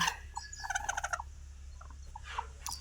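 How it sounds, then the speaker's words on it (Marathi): Soft, low clucking and throaty chatter from a broody hen sitting on eggs, several short bursts close by over a quiet background hum. "कोंबडी कुठं खुडक बसली कशी बघा"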